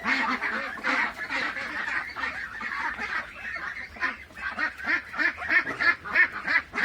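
Young male duckling quacking repeatedly in a steady run of nasal calls, fairly close, over a busy background of other ducklings and fowl chatter.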